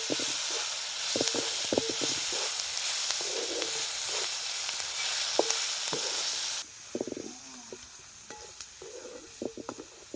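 Capsicum cooked with onion masala and red chilli sautéing on a rural wood-fired stove: a steady, close, loud sizzling hiss with intermittent scraping stir strokes, easing slightly partway through, with no talking.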